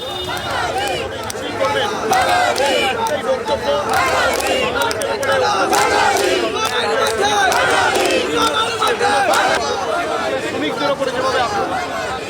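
A street procession marching from Jadavpur to Golpark in Kolkata, with a dense crowd chanting slogans in loud, continuous rhythmic bursts amid general hubbub.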